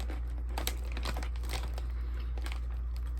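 Close crunching and crinkling as someone bites and chews a crunchy, pretzel-like Lenny and Larry's snack, several sharp crisp bites over a low steady hum.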